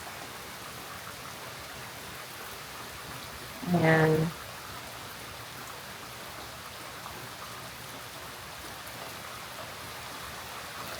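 Light rain falls in a steady, soft hiss throughout while the sun shines, with a short spoken word breaking in briefly near the start.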